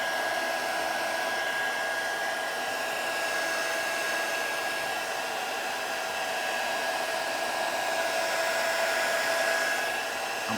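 Hot air from a heat gun or hair dryer aimed at a cracked Galaxy Tab 3 tablet screen to soften the adhesive, a constant even whooshing hiss with a faint tonal whine, moderately quiet and steady with no talking.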